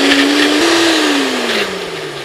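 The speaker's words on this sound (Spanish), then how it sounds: "Ahora voy a agregarle 2 cucharadas de jugo de limón y licuar." A blender whirs loudly and steadily as it purees a salsa with added lemon juice, its motor pitch dipping gradually as the thick mixture churns, close and alone with no talk.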